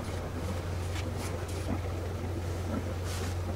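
Steady low engine drone from a sailing yacht motoring slowly astern away from a mooring buoy, with a constant deep hum and faint wind and water noise over it.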